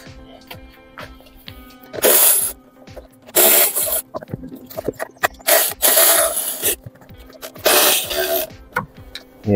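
A 7 mm socket loosens four self-tapping screws on a Ford Transit Connect cover during a timing belt and water pump job, giving several short scraping, ratcheting bursts with quieter tool clicks between them.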